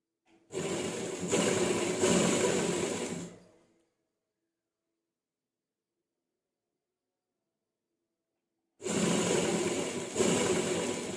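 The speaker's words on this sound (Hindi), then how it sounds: "और इस तरह से हम एंड तक सिलाई लगा लेंगे।" A sewing machine runs in two bursts, stitching along a collar on fabric, each run about three seconds of steady mechanical whirring, separated by a long silent pause.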